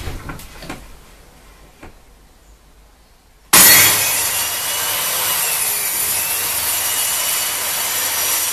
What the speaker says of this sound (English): Now I've measured and cut all the bits of wood for the baseboard